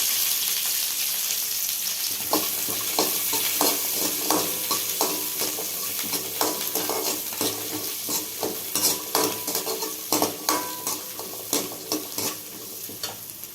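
Shallots and curry leaves frying with popped mustard seeds in hot peanut oil, a steady bright sizzle with repeated scraping stirs of a spatula against the pan, close and lively, no speech.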